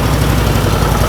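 A Harley-Davidson VFD solo motorcycle engine, kick-started in Maine, runs at a steady loud idle with a deep low rumble and a fine vibrating pulse, continuous and alone for the whole short stretch.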